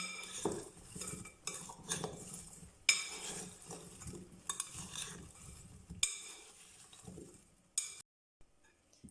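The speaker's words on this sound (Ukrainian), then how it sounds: "І ретельно все перемішуємо." A spoon scrapes and clinks steadily against a bowl as seasoned potatoes are stirred and tossed, continuous and close, then stops abruptly.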